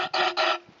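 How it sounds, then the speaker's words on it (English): Carburetor cleaner sprays in two short hissing blasts through a clear jet in the carburetor of a Toro 22298 mower with a Kawasaki FJ180V engine, close and loud, then fades to a faint tail. "Fish the hose from a carburetor cleaner can up into the center of the jet inside the carburetor"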